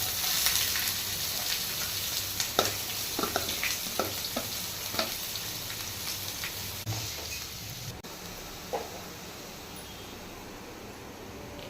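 Onions sizzle and fry steadily in a pan for mutton paya curry, a dense close crackle with scattered sharper pops and occasional stirring clicks, no talk.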